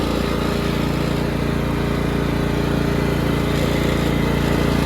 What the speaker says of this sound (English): Engine really runs smooth.